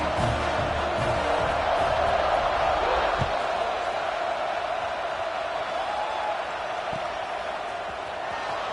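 Stadium crowd noise swells in an American football video game before a kickoff, a broad roar and cheering that peaks early and settles into a steady background murmur.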